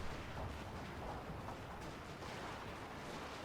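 An infantry line fires muskets in the Fall of the Samurai video game. Faint, distant crackling volleys roll continuously, blurring into a dense rumble of gunfire with no clear separate shots.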